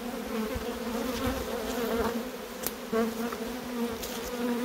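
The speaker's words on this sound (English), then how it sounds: "just try and shake off as many bees as we possibly can" Bees buzz in a dense, continuous drone as they are shaken off a box of wild honeycomb, the swarm sound close and steady with a few brief knocks and rustles.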